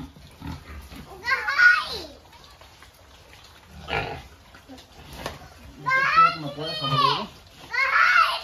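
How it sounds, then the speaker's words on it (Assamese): Pigs being ear-tagged on a farm squeal in loud, shrill bursts, one early and a longer cluster near the end, with people talking nearby between the cries. "যিখিনি গাহৰি চবকে আমি টেগ লগালোঁ, দেখিছে কাণত"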